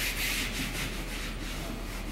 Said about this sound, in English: You want to soak down your rag generously with lacquer thinner.